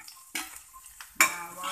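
Onions are sautéed in a pan, with brief, faint bursts of sizzling and stirring rather than a continuous fry.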